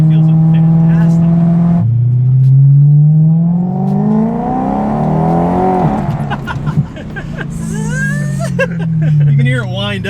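A BMW M3 with an S65 engine winds up, its pitch climbing steadily in a long, loud rise before dropping and climbing again, with a voice talking over it.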